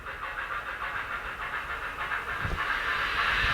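Steady hissing steam effect from an HO scale model steam locomotive on a model railroad layout, a continuous close, moderately loud rush of noise with a soft chuffing pulse, swelling slightly toward the end.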